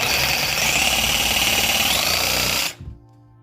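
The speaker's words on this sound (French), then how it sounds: "L'avantage de la scie sabre quand elle est à batterie" Cordless battery reciprocating saw cutting floor and ceiling insulation during a house renovation, a loud, close, continuous buzzing rasp that stops abruptly near the end, leaving brief quiet rattles.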